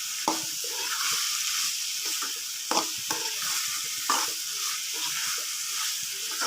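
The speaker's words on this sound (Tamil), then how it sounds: "மிளகாத்தூள், காரப்பொடி போட்டு நல்லா இந்த பச்சை வாசனை போக நல்லா கிண்டிக்கலாம்." Chili powder and spices sizzle in hot oil for a prawn gravy while a spoon stirs and scrapes the pan, steady frying hiss broken by irregular clinks and scrapes, close and with no talking.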